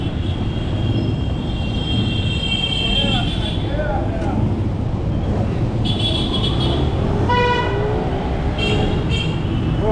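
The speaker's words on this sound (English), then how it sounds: "Friday afternoon traffic" Friday afternoon city traffic in the Dominican Republic, a dense steady rumble of engines with repeated horn blasts and toots, one longer horn, and people talking throughout.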